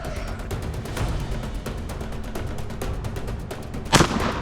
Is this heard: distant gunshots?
yes